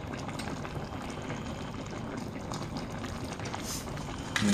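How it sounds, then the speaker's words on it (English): A pot of liquid boiling on a kitchen stove, a steady bubbling, hissing rumble that stays even throughout, close by and with no talk over it. "that's now boiling away"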